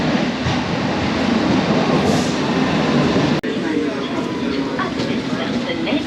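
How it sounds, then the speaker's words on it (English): A London Underground District Line train arrives at a platform, its loud continuous rumble and rail roar filling the clip, with a sharp brief click partway through and faint squeals. "Let's just wait here now for the next train, which is a District Line train"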